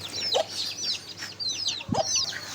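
Several chickens clucking and chirping nearby in short, overlapping calls in an aviary, with a soft thump partway through.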